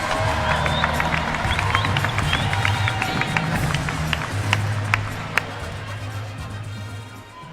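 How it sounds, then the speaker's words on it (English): An arena crowd at the 2017 NCAA women's 3-meter springboard diving championship applauds, steady clapping and scattered cheers forming a dense wash that gradually fades, with a few sharp individual claps near the end. "How about a round of applause to your top 8 and your NCAA champ, Kathleen Baker of California."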